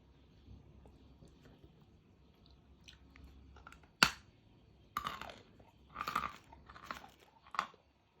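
Pink Uzbek edible clay, sawn into pieces, bitten and chewed close up: a sharp crack at the bite, then several bursts of crisp crunching in an otherwise quiet room.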